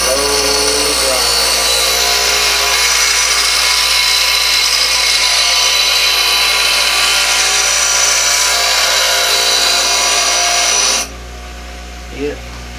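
A power grinder works steel as an old file is shaped into a knife blade, giving a steady, loud abrasive whine for about eleven seconds before it cuts off, followed by a faint knock.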